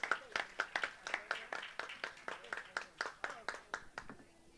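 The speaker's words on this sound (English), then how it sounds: "Round of applause for them." A conference audience gives a round of applause, a run of distinct, fairly close claps coming in a loose, fast rhythm before fading out at the end.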